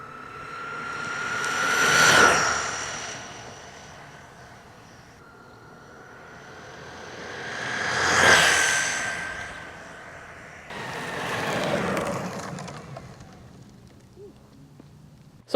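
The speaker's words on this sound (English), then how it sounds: "now we gotta do a flyby so we can see how loud this skateboard is when we're actually moving." A WOWGO Pioneer X4 belt-drive electric skateboard rides past outdoors, its whirring hum swelling and fading on two distinct passes, followed by a third approach, with no talking.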